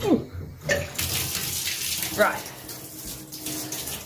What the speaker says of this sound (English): So that bath is running.